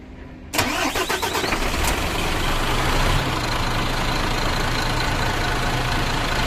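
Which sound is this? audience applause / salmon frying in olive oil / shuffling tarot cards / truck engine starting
truck engine starting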